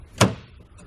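A boat's anchor door, hinged on offset piano hinges with angle pieces, shuts on the deck of a home-built jet boat with one short, near thunk, then quiet.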